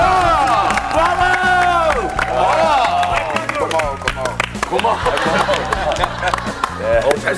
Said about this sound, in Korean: 우리 박수 한번 치자